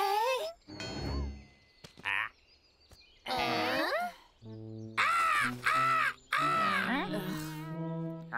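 Harsh, repeated caws ring out from a big tree in an animated cartoon, several loud bursts separated by short silences.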